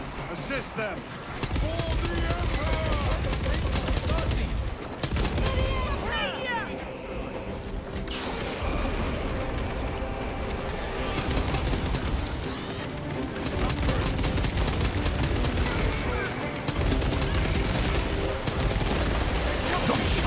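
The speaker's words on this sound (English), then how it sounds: "Small arms fire. It sounds close." Small arms fire crackles in dense, continuous volleys in the Warhammer 40,000: Space Marine 2 video game, close and loud beneath game dialogue and booming effects.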